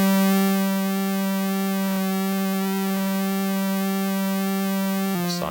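A steady triangle-wave tone from a modular synthesizer oscillator holding one pitch, bright with stacked overtones, sustained and alone, with a brief change in character near the end.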